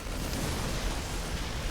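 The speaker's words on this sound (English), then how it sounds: "I still see and hear a lot of explosions" Dense, continuous rumbling explosions from a StarCraft 2 battle on Dragon Scales, steady and loud throughout with no clear gaps, like a chaotic clash of armies with banelings and a Thor.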